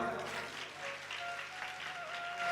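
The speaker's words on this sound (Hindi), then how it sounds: "बजाओ ताली।" An audience at a devotional Bhaktmal Katha discourse claps, steady and moderately loud, with the applause continuing evenly while music plays faintly beneath it.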